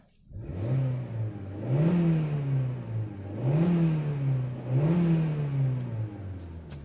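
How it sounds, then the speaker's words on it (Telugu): A Maruti Suzuki Dzire car engine revs four times in a steady rhythm, each rise and fall in pitch close and fairly loud, with no talking. "ఒక చిన్న రేజ్ ఇచ్చే వదులుతా"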